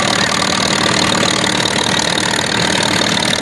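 A small vintage farm tractor engine runs steadily at a threshermen's reunion in Austin, producing a continuous loud idling rumble with an even knocking beat and no pauses.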